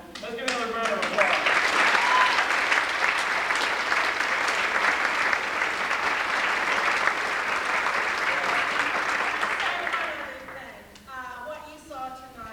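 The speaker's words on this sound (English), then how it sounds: "So let's give another round of applause." Loud, sustained audience applause at a high school drama performance fills most of the stretch, a crowd clapping steadily before fading out as a voice begins speaking.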